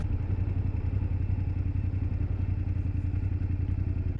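A 2024 BMW F800GS motorcycle rides along with a steady, loud engine drone mixed with rushing wind noise through a noisy helmet, continuous throughout with no talking.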